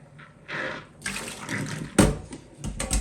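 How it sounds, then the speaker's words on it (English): Dirty water pours out after washing a front fan cover, a steady splashing stream in bursts with a sharp splash near the middle, fairly close and moderate in loudness. "Empty that filthy water and that's just from the front fan cover."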